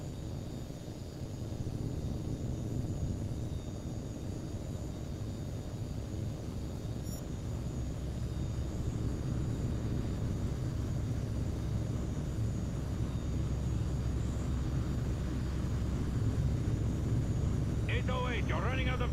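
Aircraft engine held at full throttle in a flight video game, a steady, loud broadband drone that holds without pause throughout.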